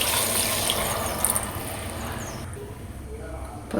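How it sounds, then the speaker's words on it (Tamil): Water is poured into a pot for mushroom biryani, giving a continuous splashing rush that holds steady for several seconds and then thins out near the end. "இப்போ தண்ணியெல்லாம் சேர்த்துட்டோம்."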